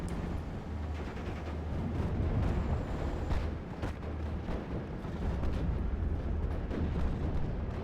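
Indirect artillery fire in the Steel Division World War II strategy game, 6th Airborne against 352 Infanterie, heard as a continuous rumbling bed of distant booms and crackling bursts at moderate volume throughout.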